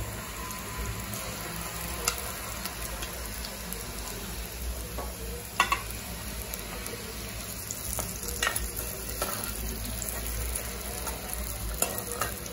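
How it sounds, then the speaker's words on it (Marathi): Chopped onion frying in a pan for besan pithla, a steady close sizzle with scattered clicks and scrapes of stirring throughout. "कांदा आपल्याला व्यवस्थित असं लालसर असं फ्राय करून घ्यायचंय"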